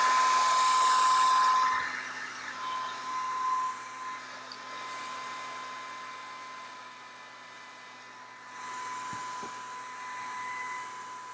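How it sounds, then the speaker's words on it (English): A hair dryer blows steadily as hair is dried at home, a continuous close whoosh with a faint whine that dips in strength a few times and sways as the nozzle moves. "So I'm getting ready to blow dry my hair now."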